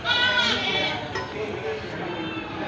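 Goats at a livestock market in Batangas giving a loud, close bleat that trails off, with market chatter and background noise underneath.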